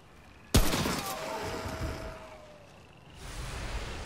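A single sharp gunshot from the video game Remnant From The Ashes, loud and sudden, followed by a ringing decay and a fading whoosh of ambience, no talking.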